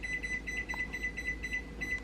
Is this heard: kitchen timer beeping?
yes